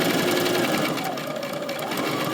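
A sewing machine stitching the short side seam of a fabric tote bag, a fast continuous whirring hum with slight variations in speed, close and loud, with no talking.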